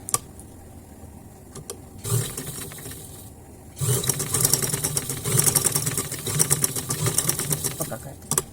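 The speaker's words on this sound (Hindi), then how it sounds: "यहाँ से हमने इसको पैर की सिलाई करनी है।" Sewing machine stitching buckram onto the neckline of a velvet shirt, its motor whirring in loud steady bursts, a short burst followed by a longer continuous run of rapid stitching.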